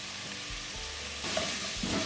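Dried beef (carne seca) hits a hot pan and sizzles steadily, with stirring clatter and a louder burst of frying as the meat is turned for escondidinho, close and without speech.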